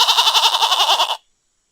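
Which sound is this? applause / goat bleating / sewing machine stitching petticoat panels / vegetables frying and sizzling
goat bleating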